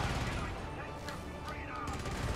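Turret gunfire in the video game Helldivers, a dense, loud burst of rapid shots over a short stretch, with a voice talking over the noise.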